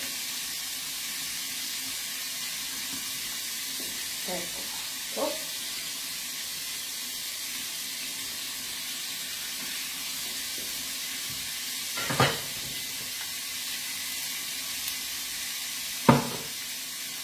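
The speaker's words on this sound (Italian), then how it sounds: "Ecco qua, sta friggendo." Breaded zucchini flowers fry in a pan with a steady, close sizzling hiss, broken by a few faint clinks and pops.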